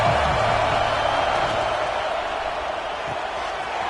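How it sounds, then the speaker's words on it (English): Stadium crowd roaring at a college football game, a loud, sustained wash of cheering and noise that holds steady throughout without clear breaks. "This crowd ready to make its presence known."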